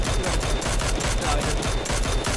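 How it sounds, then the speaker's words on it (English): A Tommy gun firing rapid, evenly spaced bursts in PUBG, a dense, loud, close stream of shots with no talk. "I couldn't hear you over my Tommy gun!"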